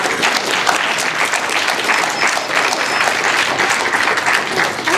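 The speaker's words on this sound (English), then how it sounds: "we'll give another round of applause for Melanie" Steady, dense applause from a conference audience at a student-run assistive technology event, loud and sustained for the whole stretch with no pause.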